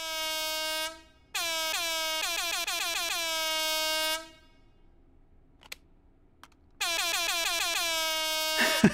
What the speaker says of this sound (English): We've got a Meaty League Gaming air horn